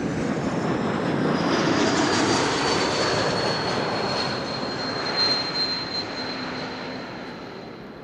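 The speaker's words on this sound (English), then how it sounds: "E2 Embraer 195 having arrived from Glasgow" An Embraer 195 E2 jet airliner arrives at Amsterdam Schiphol with a loud, broad engine roar and a falling whine. The roar fades slowly as the jet passes.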